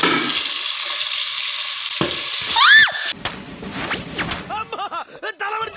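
Small onions hit a pan for tomato rice and give a brief, loud hiss of frying. Sharp whistling, chirping sounds follow and take over.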